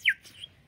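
A water-filled bird whistle bought at a Renaissance fair gives a single short, bright warbling chirp up close, followed by a fainter trill.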